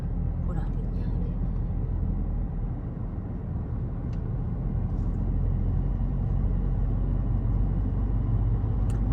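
Steady rumble of road traffic stuck in a jam in Bangkok, a dense continuous low drone of idling cars and buses, with someone talking over it.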